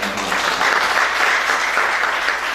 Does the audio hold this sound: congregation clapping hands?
yes